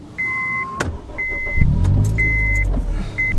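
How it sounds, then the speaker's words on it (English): A car engine cranks and catches at a dealer's lot, a low rumble settling into a steady idle after a short electronic chime repeats several times beforehand. "Start the engine."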